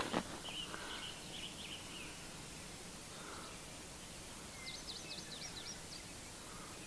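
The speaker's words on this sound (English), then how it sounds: "I'm pretty sure you can hear the birds all around me here." In a woodland setting, birds give faint, distant chirps and a short trill over steady background hiss. The calls are brief and scattered, with the clearest ones near the middle.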